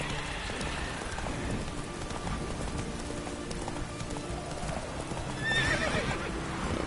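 Roach, the horse in The Witcher 3 on PS4, gallops with steady clip-clop hoofbeats over a rain-like patter, then lets out a bright neigh near the end; no talking.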